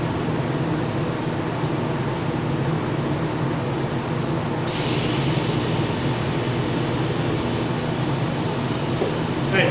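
TIG welding joining two metal pieces, a steady continuous hiss with a high whine that starts partway through and holds to the end, no talk.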